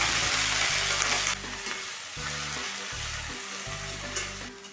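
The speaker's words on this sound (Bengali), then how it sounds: "কড়াইতে অল্প পরিমাণ সরষের তেল দিয়ে লাউ শাকগুলোকে ভেজে নেব" Bottle gourd greens fry in mustard oil in a wok, a steady loud sizzle with a low humming tone in the background that cuts out briefly and returns.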